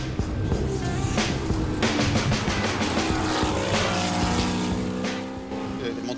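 Vintage race cars roar past at a historic racing event, a De Tomaso Pantera with a Ford Cleveland engine battling a Martini Porsche, with loud engines and tire noise under narration.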